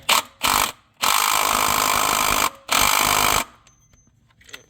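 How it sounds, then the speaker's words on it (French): A power tool whirs in loud, close bursts while the nut on a Yamaha TMAX 560 variator is tightened, with two short spins, then two longer runs, before a quieter stretch with faint handling noises. "Et là vous serrez votre écrou."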